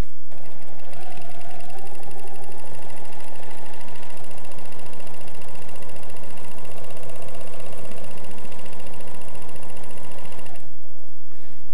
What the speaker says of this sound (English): I am just going to stitch around to form a flower.